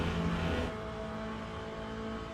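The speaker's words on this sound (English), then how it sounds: "I think this car has the best sound of the whole game" A GT3-class race car engine in the Le Mans Ultimate racing sim drones steadily with a strong harmonic tone, easing slightly in pitch and level after the first half second, with no talking.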